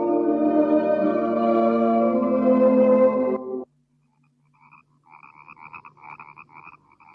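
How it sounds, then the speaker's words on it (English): Frogs croak in marshes in a dense, pulsing chorus of rapid raspy calls, loud and steady for several seconds, then after a brief silence a thinner, fainter run of trilling croaks continues. "There must be millions of them in those marshes. The frogs."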